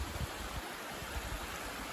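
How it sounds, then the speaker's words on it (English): Waterfall heard from the top of the falls, a steady, loud, broadband rush of falling water with low rumbling, continuous and unbroken throughout. "We're at the top of the waterfall, actually."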